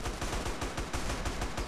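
Rapid automatic gunfire in GTA San Andreas multiplayer, a fast, even burst of shots repeating several times a second, fairly faint and steady throughout with no talk.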